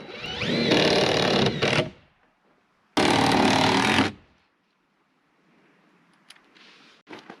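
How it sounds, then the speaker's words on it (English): A power screwdriver drives screws into studs on an ICF cabin build, giving two loud, close, sustained whirring bursts of about two and one seconds, then quiet with faint clicks. "I'll put 2 screws in each one of those studs."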